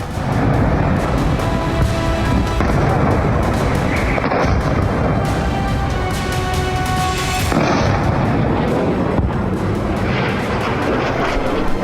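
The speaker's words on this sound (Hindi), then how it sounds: "सेंट्रल तेल अवीव में एक के बाद एक कई मिसाइलें दागी गई।" Iranian missiles striking central Tel Aviv at night, one after another: a dense, loud roar of rumbling blasts and crackling booms, sustained throughout and heard from a distance.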